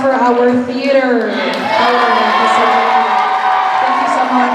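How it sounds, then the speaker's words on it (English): An audience at a high school choir spring concert cheers and whoops for the theater staff, a dense, steady roar of many voices filling the hall, with shouts rising over the crowd throughout. "let's give a round of applause for our theater"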